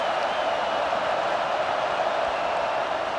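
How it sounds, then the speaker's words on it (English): Stadium crowd roaring during a Tennessee versus Oklahoma matchup in College Football 25, a dense sustained wash of cheering noise, loud and unbroken across the clip. "this crowd is tearing the lid off this place"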